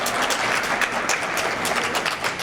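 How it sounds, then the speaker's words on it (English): Steady audience applause for a young authors' contest winner at an award ceremony, dense and even clapping filling the whole stretch with no voices over it. "You can applaud for her though"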